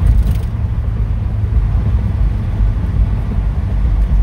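A used car with replaced front disc and rear drum brakes is driven along a road, heard from inside as a steady, loud low engine and tyre rumble without squeaks or rattles.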